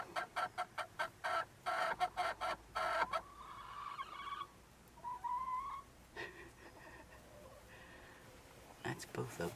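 Backyard chickens and a feisty rooster cluck up close in a rapid run of sharp, repeated calls, then scattered softer clucks and squawks follow, with a few quieter gaps between.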